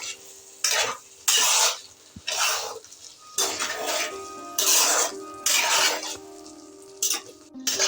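Egg curry with kasuri methi being stirred in a pan, repeated bursts of spoon scraping and clinking against metal in an uneven rhythm, with a faint sizzle underneath and no talking.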